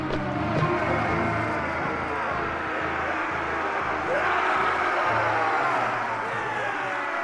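A dense, noisy din of many soldiers shouting at once during a castle siege in the video game Mount & Blade: Warband, blended with a rumbling battle clamor, continuous and fairly loud throughout.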